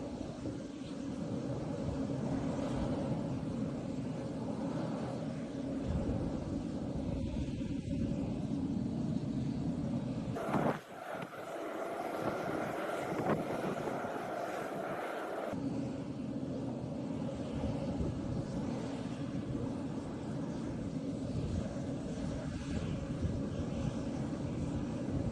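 A private jet's engines roar steadily and loudly throughout, a dense continuous rumble with a brief shift in tone partway through, and no voices.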